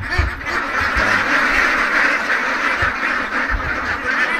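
Two-month-old ducklings quack in a pen, a dense, continuous chorus of nasal calls overlapping from several birds nearby, loud and steady throughout with no talk.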